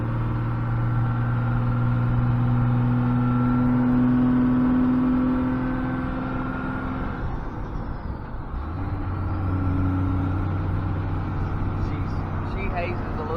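A diesel truck with a P7100 injection pump accelerates gently on a rough road, its engine droning and rising through the gears with cab rattle, while someone talks over it.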